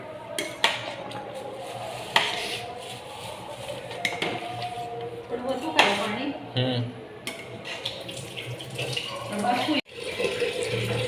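Pav bhaji with desi ghee and cheese is stirred in a pan at home, giving soft scraping and clinking of a spoon against metal with intermittent louder knocks, fairly close and moderately quiet.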